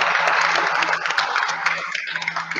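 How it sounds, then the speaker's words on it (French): A studio audience in a French-language television broadcast claps in a busy, continuous patter of applause over a faint steady hum. "Alors, vraiment une bonne main d'applaudissements"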